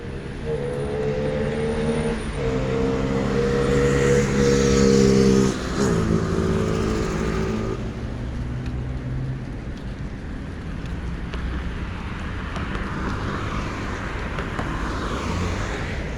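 A car rolls across a road viaduct, its engine and tire rumble steady and close, with wind and passing traffic noise; a louder engine tone early on fades into a broader road hiss for the rest of the stretch.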